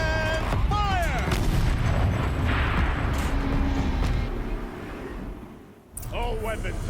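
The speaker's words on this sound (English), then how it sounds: "Rotate turret! And fire!" A tank turret fires in the Horizon video game, heavy booming blasts rolling over a constant loud rumble with game voices, a brief lull, then a return of noise.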